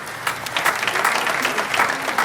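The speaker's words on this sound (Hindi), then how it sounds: "मैं चाहता हूं कि पूरा सदन एक बार जोरदार तालियों से आगाज करे भाई शुभम कुमावत का।" An audience at a Hindi poetry stage event gives a poet loud, vigorous applause, with dense overlapping claps sustained throughout.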